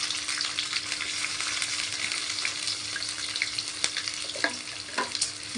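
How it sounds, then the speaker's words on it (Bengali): Chopped onions fry in a pan with a steady, soft sizzle and occasional light clinks and scrapes of stirring, close by and without speech. "ভালো করে ভেজে নেব ওগুলোকে"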